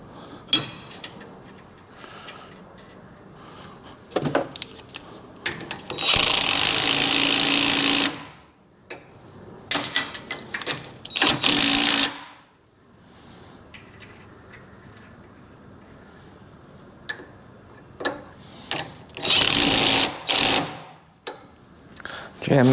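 Wrench working a stud loose from a 1974 Harley-Davidson Superglide Shovelhead FXE inner primary held in a vise, with several loud, harsh, grinding bursts of a few seconds each, separated by quieter clanks and handling noise.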